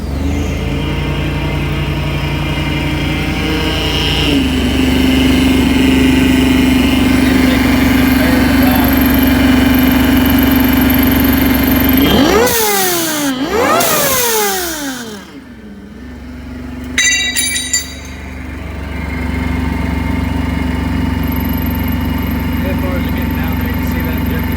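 A supercharged car engine starts up inside a shop and runs loud and close, idling with a rough drone, then revving sharply a couple of times before settling back.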